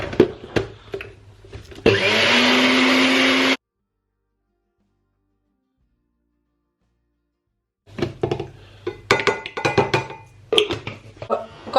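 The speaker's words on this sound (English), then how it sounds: "40 grams of oats here. I'm just going to blend them up" A kitchen blender grinds 40 grams of oats for pancakes in a loud, steady whir lasting under two seconds, set between stretches of clattering kitchen handling and a silent gap.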